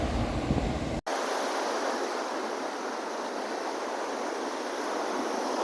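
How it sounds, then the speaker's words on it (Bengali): Arabian Sea surf breaking on a quiet Goa beach, a steady loud wash of crashing waves with no pause between sets, the roar continuous after a brief cut near the start. "দেখুন একটা ঢেউ শেষ না হতেই আবার একটা ঢেউ এসে গেল।"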